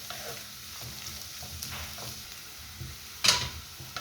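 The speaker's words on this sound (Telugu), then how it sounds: "బీట్రూట్ ఫ్రై అయిపోయింది, ముక్కలు అయిపోయాయి చక్కగా." Beetroot pieces fry quietly in a pan: a soft, steady sizzle with light stirring scrapes throughout and one sharper scrape near the end, with no talking.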